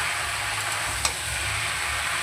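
Vegetables frying in a pan while being stirred, a steady loud sizzle throughout with a brief scrape of the spoon near the middle, close by and with no talking.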